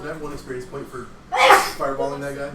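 A single sharp human sneeze bursts out mid-conversation, louder than the surrounding talk, with people speaking before and after it.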